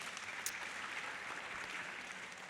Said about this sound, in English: Round of applause for Asha.